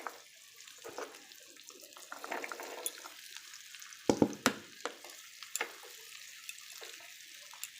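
Jackfruit seeds frying in oil in a pan, a soft steady sizzle with occasional scraping stirs and a few sharper clinks.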